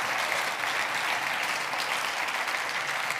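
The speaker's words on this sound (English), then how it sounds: "We could just give them a round of applause." Audience applause for a band, a dense, steady clapping from a crowd that holds even and full throughout, with no talk.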